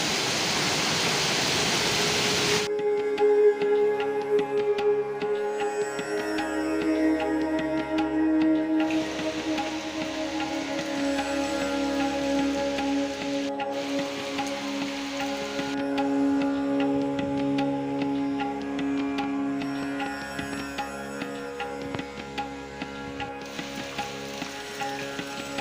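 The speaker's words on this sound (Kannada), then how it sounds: "ಮಳೆ ಬೀಳ್ತಾ ಇದೆ." Rain pours steadily outside a hillside cave on a forested hill near a Kali devi temple, a dense, even hiss that runs unbroken and fairly loud, with some faint tonal sounds beneath it.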